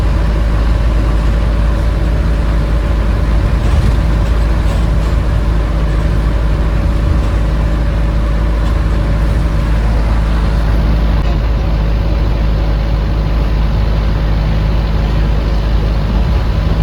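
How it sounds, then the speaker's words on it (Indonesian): An old economy Bumel bus on the Jember–Bondowoso–Situbondo route rides along with its windows open, its engine giving a loud, steady, broadband rumble that fills the whole stretch without any talk. "Untuk suara mesinnya ini masih terlihat bus ini masih sangat terawat sih guys."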